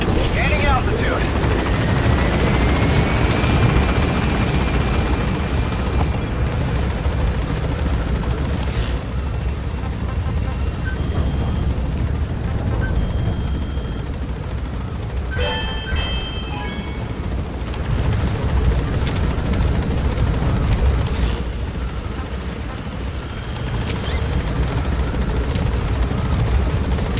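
Helicopter lifting off and climbing in Metal Gear Solid V: The Phantom Pain, a loud steady rotor roar and turbine whine filling the scene, with a game voice speaking over it.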